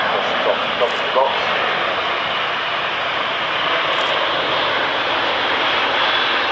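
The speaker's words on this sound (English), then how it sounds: "Low speed, high alpha pass. A huge aeroplane coming past so slowly." An Airbus A380 makes a slow, low-speed, high-alpha flypass at the Farnborough Air Show, giving a steady, loud, broadband engine roar that holds throughout, with faint voices now and then underneath.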